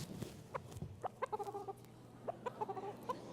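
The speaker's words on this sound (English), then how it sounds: "He's a white-crested, black Polish bantam rooster" A white-crested black Polish bantam rooster clucks nearby in several short bursts of quick, throaty notes, separated by brief pauses in a quiet room.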